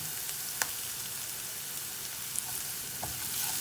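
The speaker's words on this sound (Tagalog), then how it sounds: "So, mekos-mekos lang natin guys hanggang maging light brown ang ating garlic" Garlic sautéing in a pan for a mung bean and vegetable dish, a steady close sizzle with faint stirring clicks and a few soft utensil taps, no talking.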